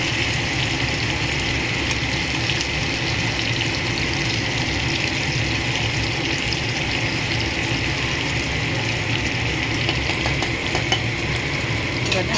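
Spices and fish frying in hot oil while being stirred, a loud, dense and continuous sizzle with steady crackle that runs unbroken throughout.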